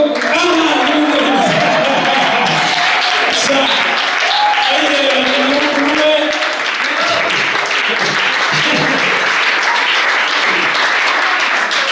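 A church congregation gives sustained, loud, dense applause at an evangelist's service, with a voice speaking over the clapping throughout.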